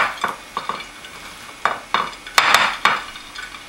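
Carrot salad tossed in a bowl, a series of loud, close scraping and clattering strokes from utensils in an uneven rhythm, with no talking.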